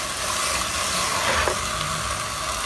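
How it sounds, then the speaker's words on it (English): Green salsa being stirred into a hot pan sauce, giving a steady, even sizzle and hiss that carries on without a break, with no voices. "Okay, next I'm adding my green salsa. Again, stirring it around."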